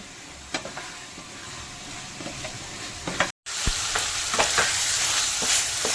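Potatoes and spices sautéing in a pan for an egg curry, a steady sizzle with repeated spatula scrapes and clicks, loud and close, with a brief cut partway through.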